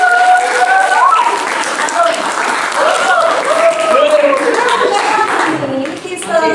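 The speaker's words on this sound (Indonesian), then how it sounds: "Tepuk tangan." Students clap to welcome everyone to a school social institution exhibition, a loud, close burst of applause with a teacher's voice and some chatter running over it.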